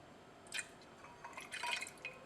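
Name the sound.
concentrated hydrochloric acid added to ibuprofen solution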